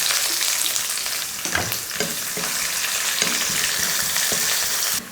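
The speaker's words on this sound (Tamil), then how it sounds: "வெங்காயம் இந்த அளவுக்கு வதங்கினா போதும்." Sliced onion fries in oil with bay leaves and spices, a steady close sizzle broken by a few scraping stirs of a spoon, with no talking.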